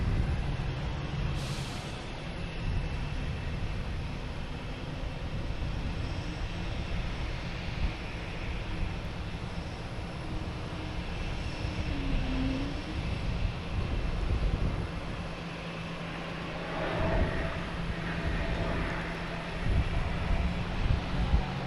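A JetBlue jet arrives at Boston Logan Airport, a faint, distant engine rumble drifting steadily with slight swells and a brief rise near the end.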